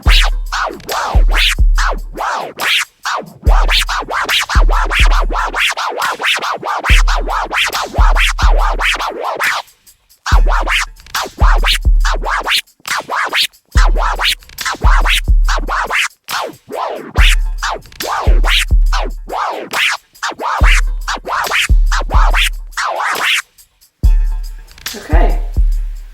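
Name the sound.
DJ tear scratch over a beat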